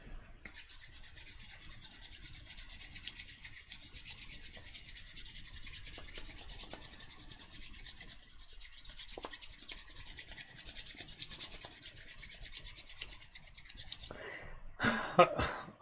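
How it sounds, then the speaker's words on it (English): Steady close dry rubbing of hands together, a continuous soft friction hiss lasting many seconds, ending with a few louder brushes. "I'm done rubbing my hands together"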